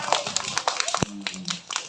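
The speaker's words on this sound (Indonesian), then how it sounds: "Tepuk tangan." Children clap their hands together in a short, quick burst of claps that is close and lively, mixed in with voices talking over it.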